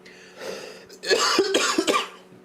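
A single person coughs and clears their throat up close, a short rough burst followed by a few harsher hacks, with nothing else around it.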